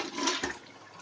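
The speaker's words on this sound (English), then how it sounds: "This is rainwater flushing my toilets." A household toilet is flushed with harvested rainwater supplied from an IBC tote by a solar 12-volt pump, giving a single brief rushing whoosh of water, close and fairly quiet.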